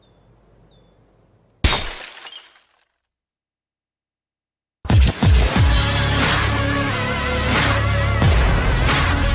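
A glass bottle in a television advertisement breaks with one sharp, loud shatter and a brief tinkling tail, then silence before music starts.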